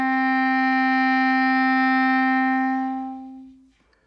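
A clarinet sounds a single sustained D, starting full and steady, then tapering and cutting off near the end, played alone in a lesson setting.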